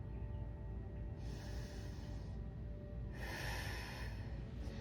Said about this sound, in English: Take 1 more deep breath here.